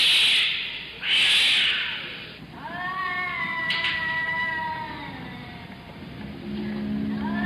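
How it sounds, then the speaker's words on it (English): Cats meow and caterwaul at night in a city, several drawn-out, wavering cries rising and falling one after another, fairly close and loud against a low background hum. "And every night at 3 a.m., there are cats."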